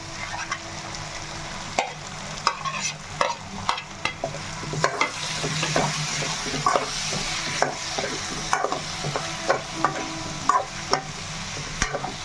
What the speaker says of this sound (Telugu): ఇప్పుడైతే మనం రొయ్యలు అయితే వేసుకుందాం